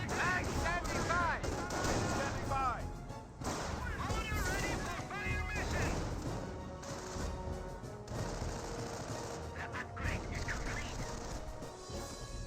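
Gunfire in the World War II strategy game Company of Heroes, a dense run of rapid machine-gun bursts, single shots and heavier blasts, loud and continuous, with a commentator talking over the battle.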